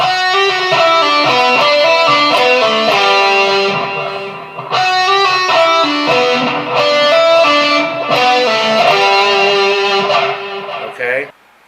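An electric guitar plays a melodic lick from a solo, with bending, sustained notes and a slight pause midway, clear and up close, ending abruptly.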